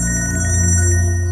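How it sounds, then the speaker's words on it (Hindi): A mobile phone ringtone plays loud and close, a steady electronic tone with a pulsing melodic pattern that lasts a little over a second. "आपका फोन बज रहा है।"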